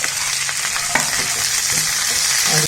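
Beans, onion, green chilli, ginger and carrot sauté on a high flame, giving a loud, steady sizzle with occasional stirring scrapes, close and alone.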